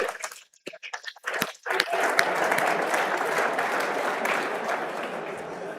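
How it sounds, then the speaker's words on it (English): A convention audience at BEMA Convention 2026 breaks into a round of applause, starting with a few scattered claps before swelling into dense, loud, sustained clapping from a large crowd. "Round of applause for yourselves."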